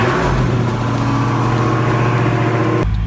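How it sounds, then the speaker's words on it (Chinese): A repaired Dodge Hellcat runs steadily with a loud, close, rumbling engine note that holds constant and then cuts off abruptly near the end. "连接上电池，咱们启动一下试试。"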